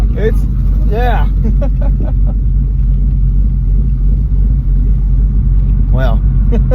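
Deep, steady low engine rumble from a built, cammed 2001 Ford Mustang idling close by, continuous throughout, with brief voices and a couple of short higher chirps over it.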